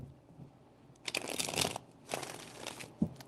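Tarot cards being shuffled in a few quick bursts, crisp papery riffling and crinkling rustles, close and moderately loud with short pauses between.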